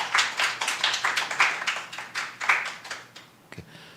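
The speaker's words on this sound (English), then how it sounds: "Let's give them all of them another round of applause." A small audience at an authors' forum gives presenters a brief round of clapping, a few dozen distinct hand claps in quick rhythm that thin out and fade after about three seconds, with a couple of stray claps at the end.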